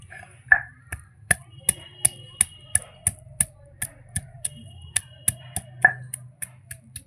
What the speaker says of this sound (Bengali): আদাটা বেটে নেব এবার জিরের সঙ্গে।